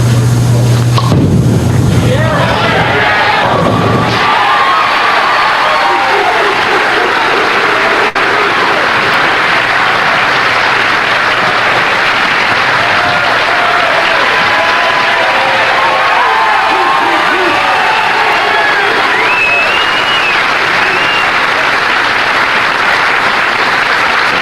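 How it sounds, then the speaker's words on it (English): A large hometown crowd roars and claps without pause at a PBA bowling championship round in Baltimore, loud and dense, with a brief boom near the start. "That's the most sustained cheering that we've heard on the tour for a long time."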